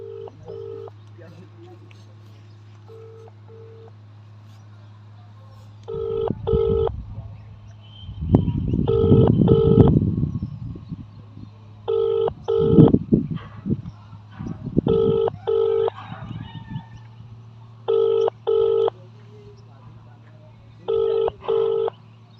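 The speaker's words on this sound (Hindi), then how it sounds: "ये देखिए अबरार भाई को हमने फ़ोन लगाया यहाँ पे।" A telephone call rings out: repeated pairs of ringback tones recur at a steady rhythm while the line goes unanswered, with talk and some rumbling noise in the middle stretch.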